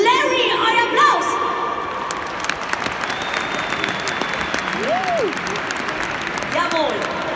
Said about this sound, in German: Larry, euer Applaus!